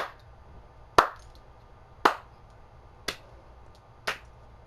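Four slow, sharp claps spaced about a second apart, each ringing briefly in a quiet room with a low hum underneath.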